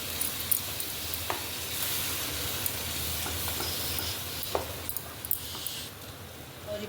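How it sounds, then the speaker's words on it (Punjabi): Soft sizzling in a wok as ground spinach is stirred in, with scraping stirring strokes and occasional clinks, fairly quiet and steady throughout. "ਇਹਦੇ ਵਿੱਚ ਪਾ ਦਾਂਗੇ ਪੀਸੀ ਹੋਈ ਪਾਲਕ ਚੰਗੀ ਤਰ੍ਹਾਂ ਇਹਨੂੰ ਮਿਕਸ ਕਰ ਦਾਂਗੇ"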